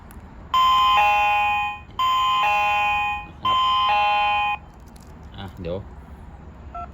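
A WiFi GSM dual-network alarm sensor sounds its doorbell chime three times, each a loud, bright sustained electronic tone with short gaps, followed by brief faint clicks.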